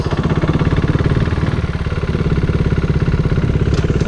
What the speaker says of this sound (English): I pull in the clutch, lift up all the way, ease out the clutch slowly, then I get back on the gas